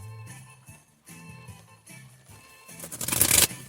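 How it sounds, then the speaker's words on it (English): Tarot cards are shuffled in a few riffling bursts, the last one louder and longer, with quiet pauses between. "Two more shuffles."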